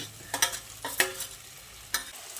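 Fried ridge gourd goes into a pan of spiced masala with oil separating. A few scraping stirs sound over a soft sizzle, in short, uneven strokes close up.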